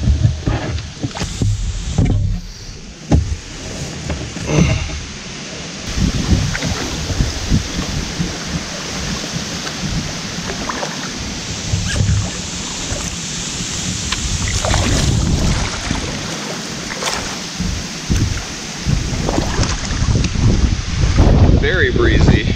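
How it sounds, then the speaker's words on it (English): Wind gusts across an open microphone on a river during a rainy camping trip, with paddling and water sloshing from a small boat mixed in, the buffeting rising and falling throughout. "Very breezy."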